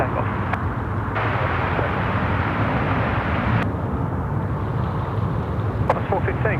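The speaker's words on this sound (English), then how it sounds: "I look at a 380 land and they pop the thrust reversers" An Airbus A380 landing at Sydney Airport with its thrust reversers deployed gives a continuous, heavy broadband roar that holds steady throughout, loud and distant, with a faint brief tick near the end.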